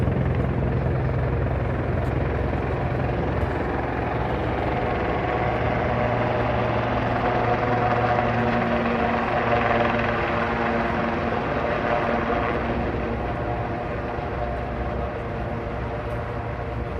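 A helicopter coming in to land on the helipad beside Waterfront Station in Vancouver, its rotor drone steady and fairly loud across the whole stretch, swelling slightly mid-way before easing off.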